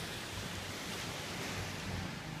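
Calm sea waves wash steadily onto Bang Buean beach in Thailand, a continuous soft surf roar with a light wind hiss and no voices.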